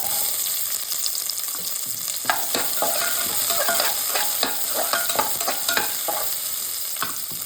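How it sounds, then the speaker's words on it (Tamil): Dense crackling and popping of mustard seeds spluttering in hot oil, with sharp irregular bursts over a steady sizzle, close and fairly loud. "இப்போ கடுகு போடுறேன் கடுகு நல்லா பொரியட்டும்"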